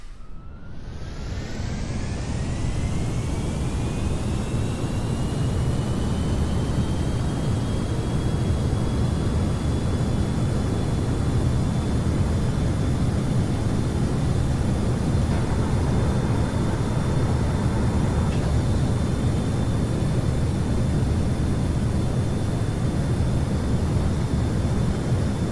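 Spaceplane engines at full throttle in Kerbal Space Program, a loud, continuous roar that builds quickly at the start and then holds steady, with a rising whine above it and no voices.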